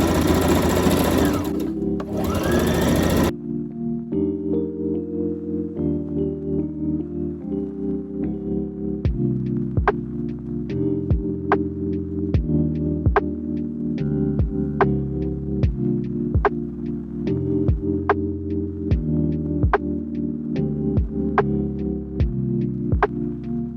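A sewing machine stitches a dress: a faint hum at first, then a steady, rhythmic throbbing run of needle strokes with regular clicks, close and loud, continuing without talk.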